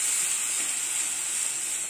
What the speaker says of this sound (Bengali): দিয়ে এটাকে আমি কষতে থাকবো যতক্ষণ না এর থেকে তেল ছাড়ছে।